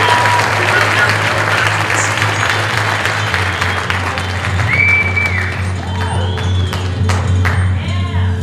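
Loud, continuous applause from an audience at an illusionist's stage show, with cheers rising over the clapping and a low hum running beneath.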